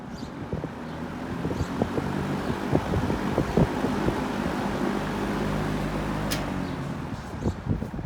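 A vintage box fan runs on high speed, producing a steady broadband whoosh with low rumbling flutter from the spinning blades, continuous and fairly loud throughout with no voices.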